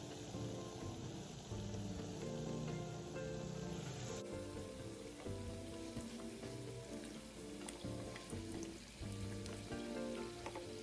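Shrimp and chive fritters coated in batter deep-fry in oil at medium heat, around 140–150°C, giving a steady, dense bubbling sizzle that runs unbroken and fairly close throughout.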